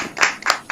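An audience at a Hindi poetry gathering claps to welcome a poet, heard as a few brief, sharp bursts of clapping spaced across a short moment.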